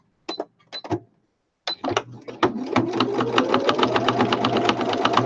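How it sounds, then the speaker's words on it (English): A sewing machine runs a straight stitch through fabric for a woodland-themed journal piece, starting with a few short bursts and then settling into a steady, close, rapid mechanical chatter. "straight stitch first, then zigzag stitch, just to make sure it stays in one place"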